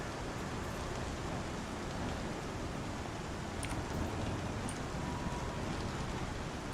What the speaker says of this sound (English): Just having a cruise in the rain